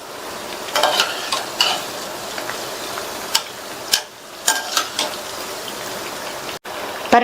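Oil bubbling and sizzling steadily as wheat-flour appam fry, with occasional clinks and scrapes of a utensil in the pan, close by.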